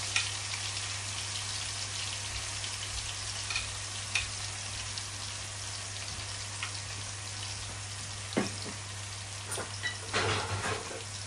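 Onion, garlic, ginger and turmeric paste fries for a Bangladeshi fish bhuna, a crackling, rain-like sizzle with a few sharper clinks and scrapes as it is stirred.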